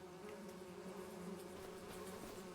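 Bees in a logging roleplay video game drone in a steady, close, continuous buzz, even in level, with a faint click at the very end.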